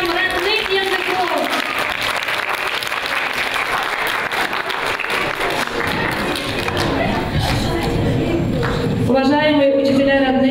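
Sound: audience applauding native language teachers

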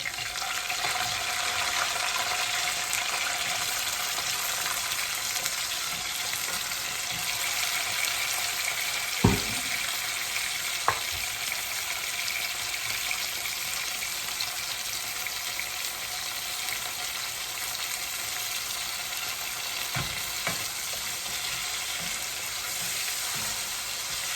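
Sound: raw tomatoes added to a frying pan, sizzling

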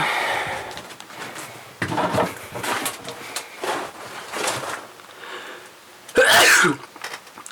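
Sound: sneeze

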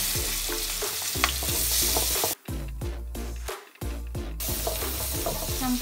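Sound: sautéing shallots in a little oil

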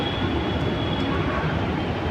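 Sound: metro train riding underground

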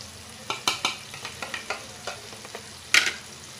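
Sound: masala being mixed into eggplant in a pan

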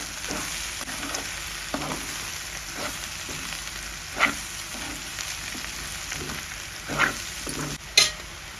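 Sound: stirring cabbage fry with cumin powder in pan

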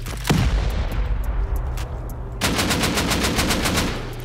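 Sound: rockets and C4 exploding in a video game raid

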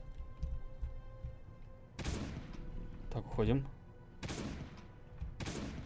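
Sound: shotgun fire against a zombie in the video game Last Day on Earth

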